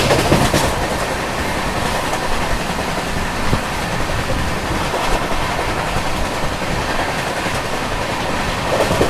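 Howrah Mail 12809 passenger train running at speed near Kanhan, heard from on board as a steady loud rumble with continuous rail clatter throughout.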